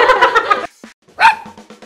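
Shih tzu dogs barking in a quick run of sharp, close yaps, then a short pause and another burst of smaller yips and barks.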